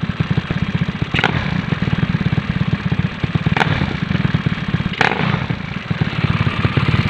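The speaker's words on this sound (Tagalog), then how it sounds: "Pagka pinihit ko yung silinyador, hindi na siya namamatay." A Yamaha Mio scooter with a 28mm carburetor runs close by, its engine chugging at a steady fast idle with a rapid pulsing beat and a few sharp clicks, no talk.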